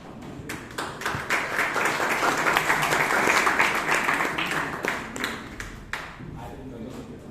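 An audience at a Toastmasters meeting claps together, a dense burst of applause that swells to a peak and then thins into scattered, fading claps.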